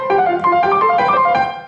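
Piano opening statement of a Prokofiev concerto: a quick run of bright, clearly struck notes in a lively melodic phrase, close and fairly loud, with no talking.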